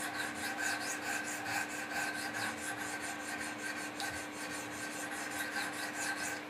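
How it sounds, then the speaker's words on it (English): A Benchmade Mini Griptilian knife is sharpened on a Wicked Edge sharpener, with steady, close back-and-forth abrasive rasping strokes repeated in an even rhythm under a faint constant hum. "Do a few strokes back and forth like this."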